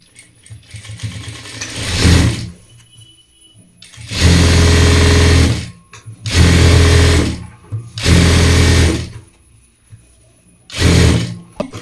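Sewing machine stitching along the side of a cloth bag, running in loud bursts of a few seconds each, separated by quiet pauses.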